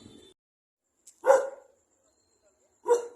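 A dog barks twice, short sharp barks separated by a pause of silence, fairly close.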